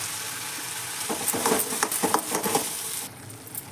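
Coconut and green chili paste hits hot peanut oil, bursting into loud, crackling sizzle with sharp spatters for a couple of seconds before settling to a softer hiss.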